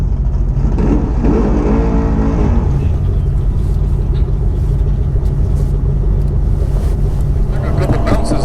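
A drag race car on Mickey Thompson ET Street R tires makes a pass at the track, giving a loud continuous engine roar with wind buffeting and a faint voice underneath.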